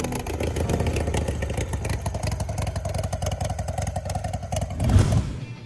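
A Suzuki RE5 motorcycle with a pistonless rotary Wankel engine runs steadily at close range with a smooth, buzzy drone and a faint mechanical clatter. Near the end it swells briefly as it revs.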